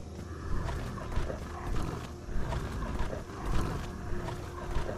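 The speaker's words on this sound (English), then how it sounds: "There's my wolf brothers and sisters." Wolves growling in the Skyrim video game, a low rumbling growl repeating in swells about every second over a dense, continuous game background, fairly loud with no talk.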